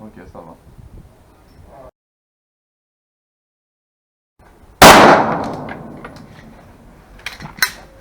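A homemade reactive target struck by a gunshot outdoors: a sharp, loud crack followed by a ringing, decaying metallic tail, then a couple of smaller clanks, after a quiet stretch and earlier soft talk.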